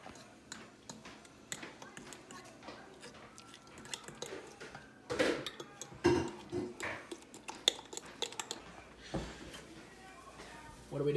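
A mixture is stirred in a bowl during home meal prep, with soft utensil clinks and scraping scattered through the clip under frequent nearby talking.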